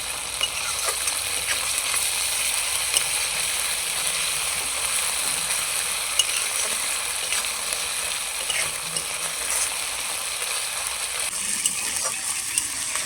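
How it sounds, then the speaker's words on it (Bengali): Onion with ginger paste and garlic paste frying in a pan, a constant close sizzle broken by small clicks and scrapes of stirring, with no talk. "পেঁয়াজের সঙ্গে আদা বাটা আর রসুন বাটাটা কিছুক্ষণ ভেজে নিলাম"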